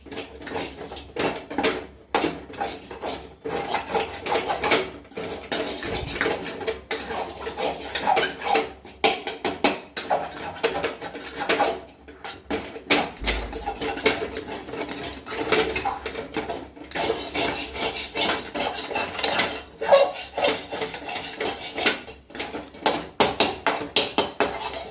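A spoon or spatula clatters and scrapes against a pan as egg stir-fry is stirred, with repeated metallic taps and scrapes over roughly twenty-five seconds. No one speaks.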